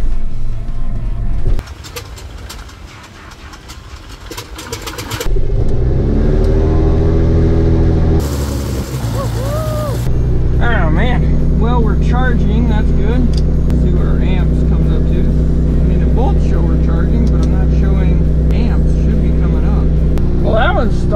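A propeller aircraft engine cranks and catches, then settles into a loud, steady running drone close by, with people talking over it.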